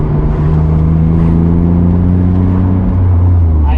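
A Toyota Celica engine revving loud and close, a steady droning roar with smooth rising pitch that holds without stumbling or bogging, running continuously throughout.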